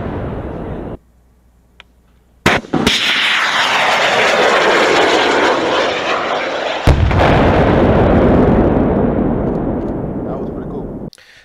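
An FGM-148 Javelin anti-tank missile fires: a quiet lull, then a sharp launch crack and a loud roaring rush of motor, a second blast, then a sustained roar that fades and cuts off.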